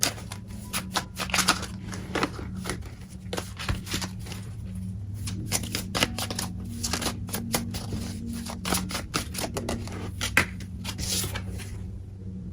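Tarot cards are shuffled and drawn by hand close up, a dense run of papery riffles, slaps and flicks with small irregular bursts over a faint low background hum.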